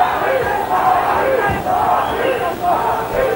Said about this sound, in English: You hear the crowd chanting.